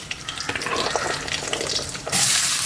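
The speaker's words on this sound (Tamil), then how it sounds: "கருவேப்பிலை போட்டுக்கலாம் பார்த்தீங்கன்னா பச்சை மிளகாயும் ரெண்டு பெரிய வெங்காயம் கட் பண்ணி வச்சுருக்கிறேன் பொடியாக அதில் போட்டுக்கிறேன்" Chopped onions, green chillies and curry leaves frying in a pan for kothu roti, a steady close sizzle that swells into a louder, brighter hiss near the end, with no talking.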